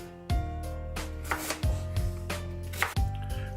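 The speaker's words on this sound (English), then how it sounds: "while I'm chopping up the sweet potatoes" A knife chops sweet potatoes on a board in a home kitchen, with sharp, regular cuts about every half second, heard up close over a steady low hum and no talk.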